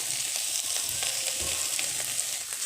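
Okra being stirred in hot oil in a pan for an Assamese fried okra dish, with a steady close sizzle and soft scraping of the spoon, and no talking.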